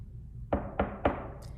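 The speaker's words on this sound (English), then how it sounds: "someone knocked at the kitchen door" Three firm knocks on a kitchen door, evenly spaced and close, standing out alone over a faint low background hum.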